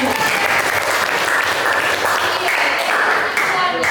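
Students in a school classroom give a loud, dense round of applause, a continuous wash of many hands clapping together for several seconds, close and full, with voices mixed in.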